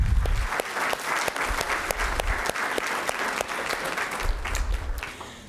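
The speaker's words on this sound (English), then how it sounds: "Let's give them a round of applause." Town hall audience applauding, a roomful of hands clapping steadily and fairly loudly for several seconds, slowly easing off toward the end without any speech over it.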